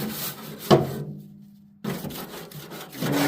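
Scraper knocking caked chunks off a flavorizer bar on a Weber Searwood pellet grill, several close rough rubbing and scraping strokes with a sharp knock early on and a brief pause midway.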